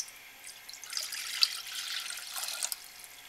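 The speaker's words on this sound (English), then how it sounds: "I have 2 cups of cold water that I will dump into the pan." Two cups of cold water pour into an ordinary saucepan on a propane camp stove burner, a soft, splashing trickle that swells and fades over a few seconds, with no speech.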